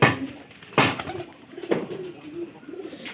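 Pigeons in a village loft coo in low, throaty, rolling phrases that rise and fall across a few seconds. There are sharp knocks or bumps at intervals and no talk.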